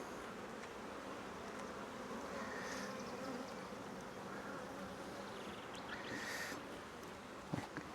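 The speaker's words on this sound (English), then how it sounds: "A lot of bees flying around." Bees fly around a queenless hive. A steady, faint, close buzzing drone continues for the whole clip, with a brief soft knock near the end.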